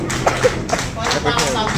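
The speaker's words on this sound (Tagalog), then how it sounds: "Palakpakan naman natin." An audience at a children's birthday puppet show claps in a short burst of quick, close hand claps, mixed with voices.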